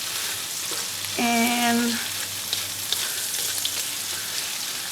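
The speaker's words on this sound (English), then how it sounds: "I'm going to put the meat in there, so we'll fry the meat separately." Meat sizzles and fries in a pan for mixed fried rice, a steady hiss throughout with a brief tonal clatter and a few light knocks, a word spoken briefly.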